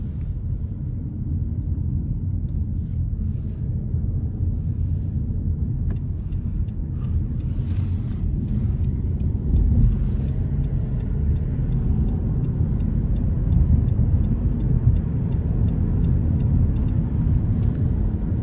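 A 2021 Nissan Rogue Sport SV with a CVT, in sport mode, accelerating up an interstate on-ramp: a steady, loud low engine and road rumble from inside the cabin, swelling slightly midway, with no voices.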